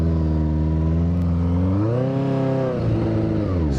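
A Kawasaki KZ750 motorcycle with a 4-into-1 exhaust revs up and down close by, a strong harmonic engine note that climbs, dips around the middle and rises again with no talking.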